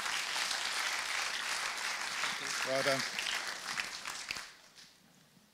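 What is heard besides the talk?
audience applause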